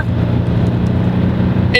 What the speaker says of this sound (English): This car's exhaust too is much louder when you get on it in the very top of the rev range.